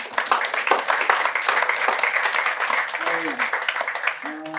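Seminar audience giving a speaker a fresh round of applause, a full burst of clapping that holds steady and then thins out near the end as a voice comes in.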